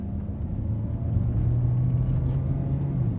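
A Kia Sportage SUV accelerates in semi-automatic mode, its engine rumbling low and steady with a rising hum as it pulls through the gears, heard from inside the cabin with no talk.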